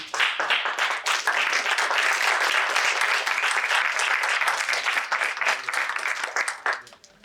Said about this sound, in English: they really deserve a huge round of applause for them